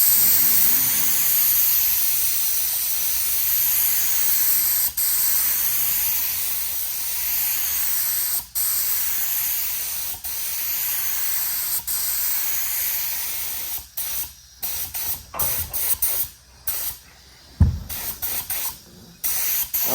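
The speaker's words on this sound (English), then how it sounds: "I always go the first coat, kind of a dust coat" Aerosol spray painting a light first dust coat of satin black on a Holden 253 V8 project, a steady loud hiss running continuously with brief breaks near the end.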